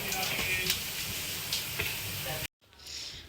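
Cumin seeds sizzling in hot oil after asafoetida, a steady bright crackle with a few sharper pops, cutting off abruptly near the end before a softer hiss returns.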